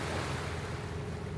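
Sea waves wash onto the shore in a steady, loud broadband rush, mixed with wind buffeting the microphone.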